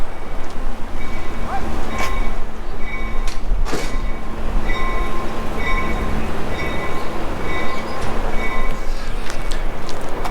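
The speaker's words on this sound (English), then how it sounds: "And now the train is backing up here as well." A train backing up slowly near Los Angeles' 6th Street Bridge, with a loud rumbling engine, metallic clanks and squeals from the cars, and steady droning tones throughout.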